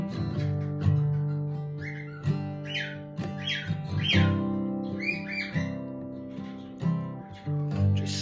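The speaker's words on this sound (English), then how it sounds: "listen to the birds." Bright bird chirps and short whistled calls pop out intermittently over a sustained humming musical drone, fairly clear and close.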